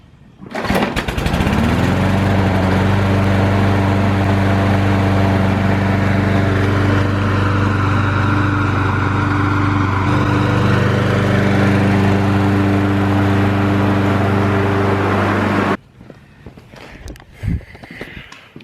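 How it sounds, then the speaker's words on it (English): A Toro lightweight push mower engine pulls into life and runs at a loud, steady drone, close by, for about fifteen seconds before cutting off, leaving quieter footsteps and handling noises. "I'm gonna start it up and test it out."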